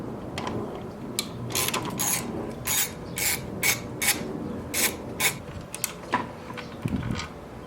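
A ratchet wrench clicks in repeated bursts as it backs off 10 mm nuts on the coolant lines of an Infiniti 3.0t, with close, crisp ratcheting strokes separated by short pauses and no talking.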